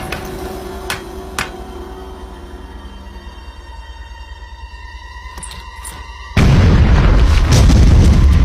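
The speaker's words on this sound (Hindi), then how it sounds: "उड़ा दो इस चट्टान को।" An explosion blows up a rock in a Motu Patlu cartoon, with a few sharp knocks early on, then a sudden loud, sustained roaring blast near the end.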